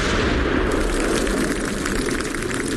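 A nuclear warhead detonation effect fills the space as a loud, continuous rumbling roar with no voices over it.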